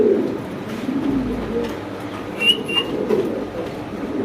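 A pair of fancy pigeons cooing close by, soft repeated low coos with a few higher chirps, no speech.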